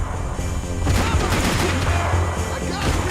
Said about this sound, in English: We shoot his bitch ass.